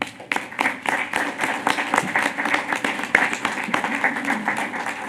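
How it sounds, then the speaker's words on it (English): An audience at a city council meeting claps, distinct individual claps forming a lively, uneven round of applause that keeps a fairly constant level and is close to the microphone. "you all need to get a big round of applause"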